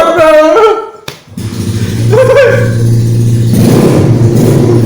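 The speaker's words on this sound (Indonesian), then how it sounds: "motor lu berisik" A loud motorbike engine revs and drones steadily up close, its low rumble rising and holding, with a brief shout near the start.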